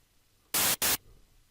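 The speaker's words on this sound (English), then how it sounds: "go to operator 1 and enable noise" White noise from an operator in the Sytrus synth in FL Studio, used to build a clap sound: two short, loud bursts of hiss, one right after the other, with a brief gap between them over a quiet background.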